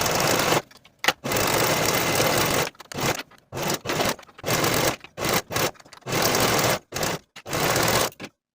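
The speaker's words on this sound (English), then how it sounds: "And then sew the side seams and the underarm seams with a 3/8 inch seam allowance" A sewing machine stitches the side and underarm seams of a turtleneck sweater in loud, close bursts of steady whirring, stopping and restarting many times with short silent gaps between runs.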